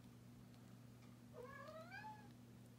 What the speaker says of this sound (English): you probably just heard my Trixie in the background, my cat